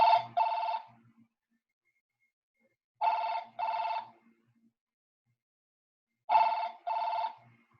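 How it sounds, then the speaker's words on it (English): A telephone rings in three bursts spaced about three seconds apart, each a pair of bright electronic double trills, clear and close against silence. "Did you say a telephone ringing?"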